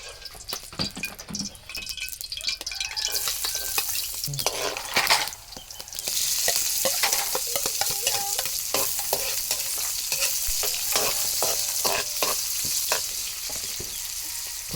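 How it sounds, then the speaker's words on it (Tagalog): Garlic and onion sauté in oil in a kawali for a braised pork-leg dish: a loud, steady sizzle that swells after a few seconds, with scraping stirs and utensil clinks, and no talking. "Inihanda ko na ang kawali at magigisa na tayo ng bawang at sibuyas."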